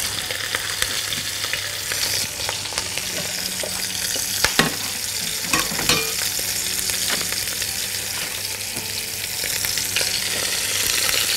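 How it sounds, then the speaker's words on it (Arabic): Lamb neck searing in a frying pan, a loud, continuous sizzle with scattered scraping and knocking of the pan, close by and free of talk. "عايزين نحمرها نديها لون بني حل"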